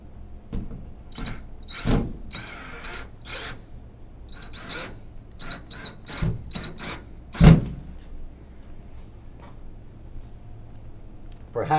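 Forever Level picture hook being driven into a wooden wall stud: a run of sharp, scraping and tapping hits of hand-tool work on wood, moderately close, with one loud knock partway through and a quieter stretch after.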